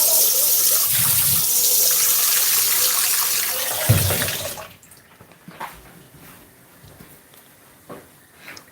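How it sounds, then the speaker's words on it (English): Tap water pours steadily into a cooking pot for boiling plantain, a loud gushing stream that stops abruptly, followed by faint drips and handling of the pot. "And yet still we need a little bit more water."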